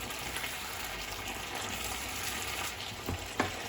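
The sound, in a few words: stirring truffle pappardelle in sauce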